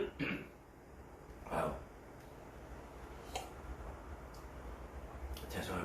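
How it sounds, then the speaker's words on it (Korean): A preacher at a Korean Sunday church service coughs and clears his throat in a few short, sharp bursts spaced across the moment, close and fairly quiet against a soft room hum. "빨리 기침이 떨어져야 되는데"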